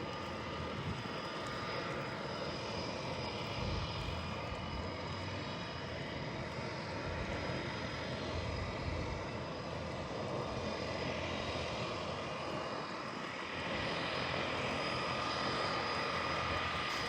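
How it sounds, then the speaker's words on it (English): A Kenmore Air de Havilland DHC-3 Otter seaplane in Victoria, BC gives a faint, steady piston-engine drone that holds at an even level throughout, heard from some distance with no other sounds. "This Kenmore Air de Havilland DHC3 Otter is ident November 709 Kilo Alpha and is serial number 410."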